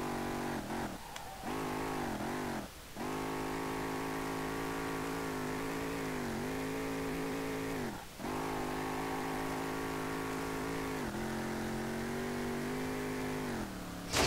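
Toyota SC300 engine in a racing game revving hard and holding high revs, with a few brief dips as gears shift, steady and prominent with no speech.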